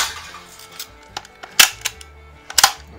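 A Daisy Model 1894 Spittin' Image lever-action BB gun fires several sharp, close snapping shots with mechanical clicks between them, spread unevenly over a few seconds.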